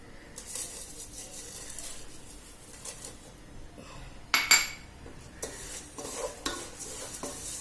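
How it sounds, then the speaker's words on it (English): Oats sautéed with popping sesame seeds in a pan for an oats dry-fruit chikki: a gentle sizzle under repeated spoon scrapes and stirring, with a sharp metallic clink midway and scraping bursts toward the end; no one speaks. "Now we need to we need to saute the oats well till it turns a bit aromatic"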